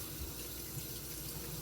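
Tap water runs steadily into a kitchen sink during rinsing, a constant even gush with no breaks and no voices.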